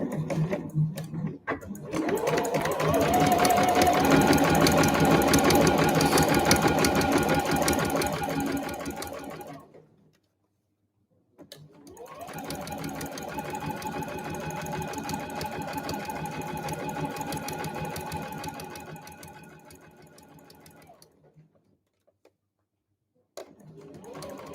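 A sewing machine stitching a convenience-store eco bag runs in two long, steady whirring bursts of about ten seconds each, separated by a short silence, close and loud, with a voice faintly beneath.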